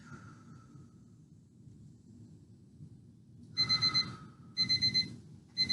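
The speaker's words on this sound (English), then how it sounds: "I hope you can hear the timer. It's pretty loud" A workout timer alarm goes off in three bursts of rapid, shrill electronic beeps, each a quick run of pulses, loud and close after a quiet stretch.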